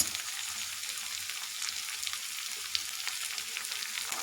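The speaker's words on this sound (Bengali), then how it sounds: "এখন সসগুলো খুব ভালোভাবে মিশিয়ে নেব।" Tomato, chili and soy sauces being mixed in a hot frying pan, a soft, even, continuous sizzle with faint crackles and no talking.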